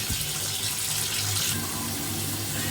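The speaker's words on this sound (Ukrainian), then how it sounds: "зараз трошки водички набереться і будемо погружати" Tap water running into a tub being filled to wash a cat, a steady loud gush and splash throughout, with no speech.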